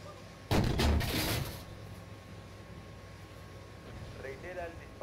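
One heavy tank cannon blast in the video game Steel Beasts PRO booms out with a rumbling tail, followed by a low hum and a voice speaking briefly near the end.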